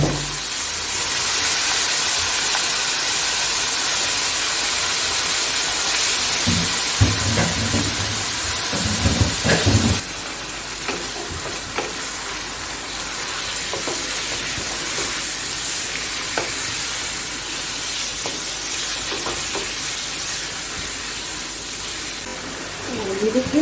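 Beef boti pieces sizzle and fry in a hot pan, a steady broad hiss running throughout with brief louder crackles partway through, close up, with occasional voice.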